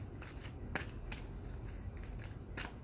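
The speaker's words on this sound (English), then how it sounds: "Give me a second while I'm shuffling." Oracle cards are shuffled by hand at close range, with soft riffling and several sharp flicking bursts spaced irregularly across a quiet background, and no one speaking.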